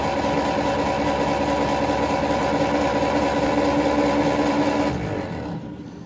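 A Ferguson T20 tractor engine, an abandoned barn find with fresh oil and no spark plugs fitted, being turned over to build oil pressure: a steady, loud mechanical drone that runs evenly, then fades near the end.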